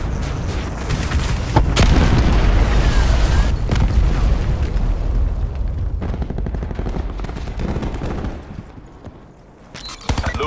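Heavy missile explosion from a Hellstorm strike in a first-person shooter video game, with a loud sustained blast and rumbling booms plus crackling gunfire continuing for about eight seconds before briefly quieting, then another burst.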